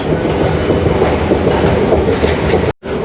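A metro train in Doha, Qatar, running with a loud, steady rumble and rhythmic clickety-clack heard from on board, cutting out briefly near the end.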